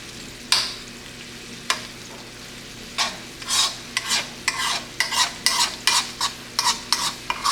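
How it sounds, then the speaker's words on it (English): Green beans with butter, garlic and onions are stirred in a pan. Repeated rhythmic scraping strokes grow faster toward the end and sit over a soft, steady sizzle. "Now with the green beans, stir those up a little"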